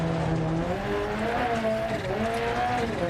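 Rally car from Dirt Rally 2.0 on a New Zealand stage, its engine holding a loud, steady drone whose pitch rises and falls with the throttle, joined by gravel and tyre noise, close and continuous with no one talking.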